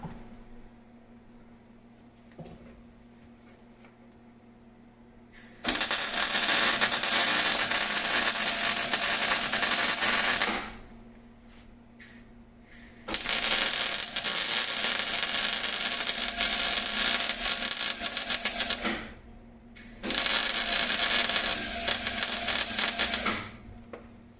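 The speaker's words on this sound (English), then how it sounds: "I have to kind of move around as I'm welding, because obviously it's like a radius weld." Welding on homemade rear control arms makes three long, steady, loud crackling hisses, each lasting several seconds, separated by quiet pauses.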